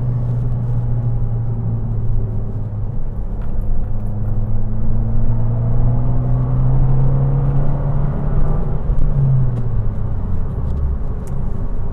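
Fiat 500 with a Multi-Air engine driving on a curvy road, a loud interior engine drone that rises and falls in pitch as the car accelerates and shifts through the bends.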